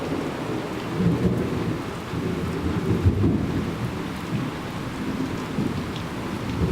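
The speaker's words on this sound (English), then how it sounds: "Thunderstorms, lightning is really rare except for this" A thunderstorm with steady heavy rain and rolling rumbles of thunder, loud and continuous throughout with no voices.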